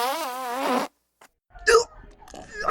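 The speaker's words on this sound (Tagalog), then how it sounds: "Ang baho ng utot mo!" A cartoon fart sound effect from a Filipino animated show, a short comic blurt mixed with animated character voices talking around it.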